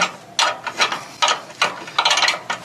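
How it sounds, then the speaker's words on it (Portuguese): Tightening a screw on solar panel mounts atop a roof: about six short, close ratcheting bursts come in an uneven rhythm, each a quick run of clicks with brief pauses between. "É exatamente acochando o parafuso"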